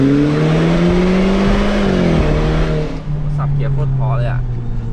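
Mercedes-Benz W204 fitted with a tunable Euro Arts exhaust, heard from outside the car: a loud, sustained engine drone that rises under revving, then drops back to a steady idle.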